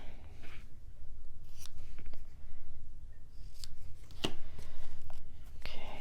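Scissors snipping paper for a mini album, faint short cutting sounds scattered irregularly over a low background rumble, with no talking.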